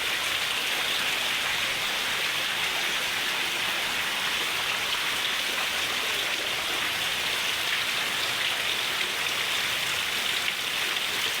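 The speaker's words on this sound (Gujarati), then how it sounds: "અત્યારે પણ આપણે ધોધમાર વરસાદ હજી બંધ નથી થતો" Steady, heavy rain pours down continuously over flooded farmland in Khamidana village, Keshod taluka, a dense hiss of water with no letup and no voices.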